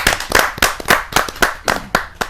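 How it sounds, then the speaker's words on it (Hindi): An audience at a Hindi kavi sammelan poetry event claps in welcome: about nine sharp, distinct claps land close and loud in a fairly even rhythm, with no voices in between. "जोरदार ताली के साथ हम उनका स्वागत"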